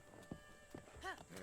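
A horse in the video game Breath of the Wild gives a couple of quick hoof clops followed by a short, faint whinny, all quiet and brief.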